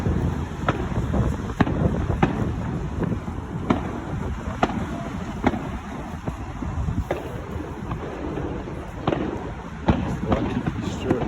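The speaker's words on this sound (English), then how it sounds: "Fireworks party." Fireworks crack and pop at an outdoor party on a Monday night near Waikiki, sharp bursts spaced irregularly over wind rumble and a background murmur of crowd noise.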